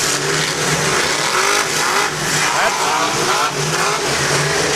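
A race car screams past at high revs at a Clearwater race track, a loud continuous engine howl rising and falling with nearby talk mixed in.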